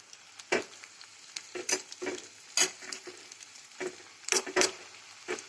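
Grated dried coconut and sesame seeds dry-roasting in a pan for a ridge gourd peel chutney, with repeated stirring scrapes and rustles in an irregular rhythm over a faint crackle, close and moderately loud.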